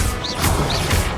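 Confringo blast spell cast in the Hogwarts Legacy video game, heard as a couple of sharp crashing impacts with swishing high tones over a dense, continuous game soundscape.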